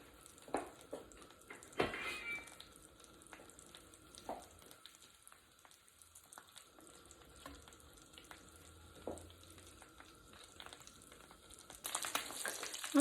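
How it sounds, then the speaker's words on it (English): Salmon fries skin side down in a skillet over medium-high heat, giving a faint, steady sizzle with a few scattered clinks and stirring bumps and no voices. "I'm just going to put it skin side down in the skillet."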